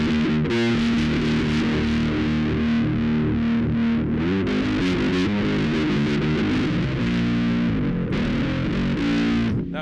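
Bass guitar played through a Darkglass distortion pedal with bass chorus engaged, a thick, gritty, shimmering tone with sustained low notes and driven upper harmonics, loud and continuous with no talking.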